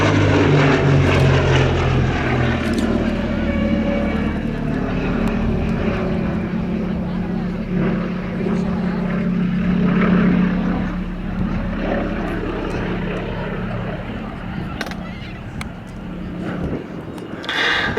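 Vintage propeller aircraft on its final display pass at the Duxford summer air show, a loud sustained engine drone with a steady low hum across the whole pass, under a commentator's voice.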